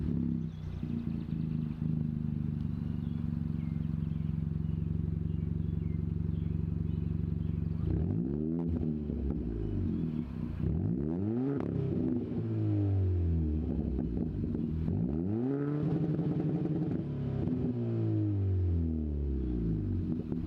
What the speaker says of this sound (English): now we're gonna get a startup and exhaust clips